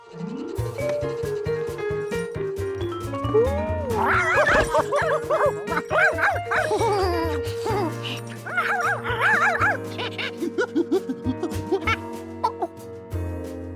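Cartoon dog barking in an animated episode, several yips and bow-wows mixed with bright music and whimpering, fairly loud and close throughout.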